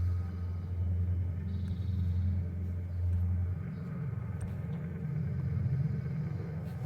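Low, steady engine rumble heard from inside a taxi cab, a continuous droning hum that shifts slightly in pitch partway through, with no voices.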